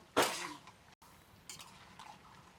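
A lid set onto a cooking pan of jackfruit and fried prawns gives one sharp metallic clank, followed by faint scrapes and a soft clink in a quiet kitchen.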